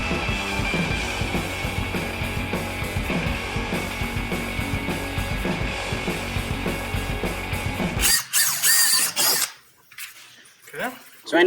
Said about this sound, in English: He's drilling into the table.